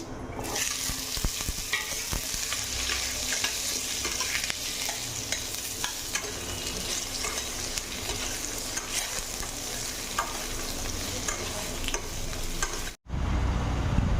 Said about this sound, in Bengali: দেখো আমটা আমি এভাবে বেজে নিচ্ছি